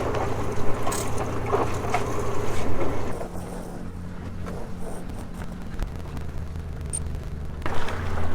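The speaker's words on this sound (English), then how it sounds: "I leave the engine running just basically on idle." A sailboat's engine idles at sea in Indonesia, a low steady rumble beneath wind and water wash, with a few louder gusty bursts near the start and end.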